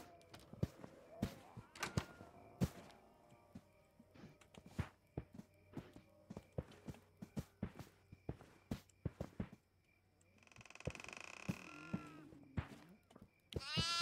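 A goat in the horror video game Devour lets out a loud, wavering bleat near the end, after a stretch of rapid footsteps and thuds.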